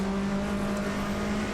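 A powerful touring car engine, among the most powerful ever raced, droning steadily at high revs after shifting up into fifth gear, a loud continuous in-car hum with no talk.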